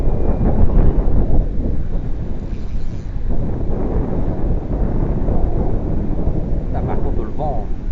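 Strong wind buffets the microphone during a quick fishing outing, a steady low roar lasting throughout, with a voice speaking over it.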